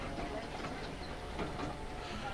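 A zoo tram at the Oklahoma City Zoo rolls past with a steady broad rumble and light rattling, fairly close and continuous with no talk.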